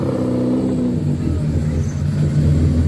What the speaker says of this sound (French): On poursuit avec une magnifique BMW M3